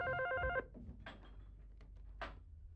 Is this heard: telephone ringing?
yes